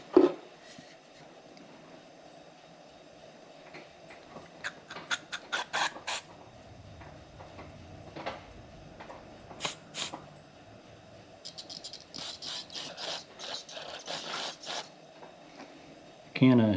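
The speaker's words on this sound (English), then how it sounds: "Carb cleaner blows through every direction." Carb cleaner hissing through the fuel pickup of a Nulite model 5WM lantern, several short spray bursts near the middle and a longer sputtering stretch toward the end as the nearly empty can runs down to air.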